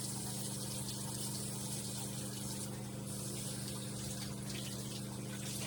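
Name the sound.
water rinsing out a cleansing pad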